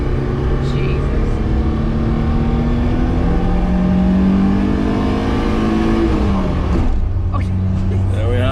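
A Lada petrol car accelerates hard from inside the cabin, its engine drone rising steadily through a long second gear. The pitch dips briefly at a gear change near the end, and voices are heard over the engine.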